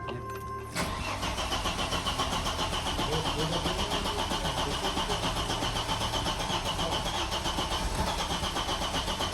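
An Audi S6 2.2T Quattro engine cranks briefly, then catches and runs at a steady, loud idle for several seconds close by, with voices talking at the start.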